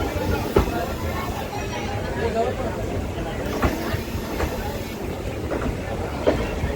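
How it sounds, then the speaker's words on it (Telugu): The Basava Express pulls out of platform 1 at Bijapur railway station with steady rumbling and periodic wheel clanks over rail joints, while people chatter nearby in a noisy platform setting. "4:30కి Baswa express Bijapur railway station platform 1 నుండి డిపార్చర్ చూడండి ఫ్రెండ్స్"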